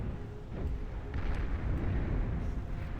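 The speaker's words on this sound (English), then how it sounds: "Landmine that is gets detonated right on top of it." A landmine detonating under units in Beyond All Reason, a real-time strategy game, sounding as a dense, sustained low rumbling blast with crackling debris that rolls on for several seconds at moderate loudness, with no talk over it.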